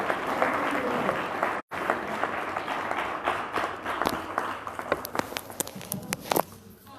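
An audience at a book launch applauds with dense, sustained clapping that fills the room, thinning into scattered individual claps toward the end.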